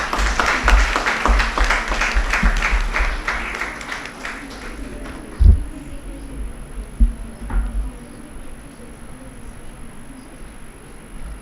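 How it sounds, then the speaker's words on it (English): A university moot court competition audience bursts into applause. The clapping is dense at first, then thins into scattered claps, with a couple of sharp knocks and low room noise after it fades. "Please give them a huge round of applause."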